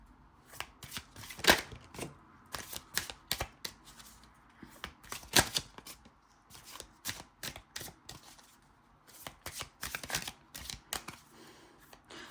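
Tarot cards shuffled by hand for a relationship reading, a run of quick papery riffles and soft flicks in uneven bursts, close and fairly quiet, with no talking.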